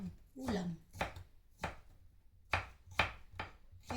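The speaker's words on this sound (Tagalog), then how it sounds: "naggayat na rin tayo ng bawang" Knife chopping garlic on a board: about eight sharp, close cuts in an uneven rhythm, quiet between strokes.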